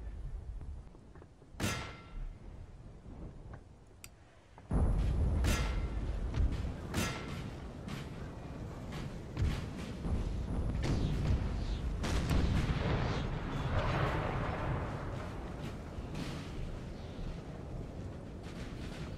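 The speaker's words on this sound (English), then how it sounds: "So we heard guns firing" Booming 12-pounder cannon fire in a Napoleon: Total War battle, several heavy reports spread across the stretch over a dense, continuous roar of battlefield noise, loud and fairly near.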